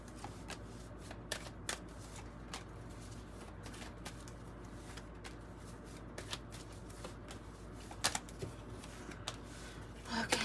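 A Kipper tarot deck is shuffled steadily for several seconds, with a soft continuous riffle of cards and occasional sharper snaps, fairly quiet and close with no talk.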